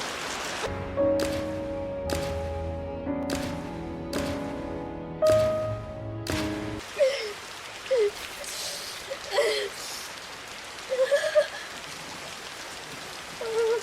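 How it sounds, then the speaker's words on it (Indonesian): Rain falls steadily in a film scene, a soft continuous patter under piano-like music at first, then alone with scattered incidental sounds. "terlihat Liliko berjalan di tengah hujan"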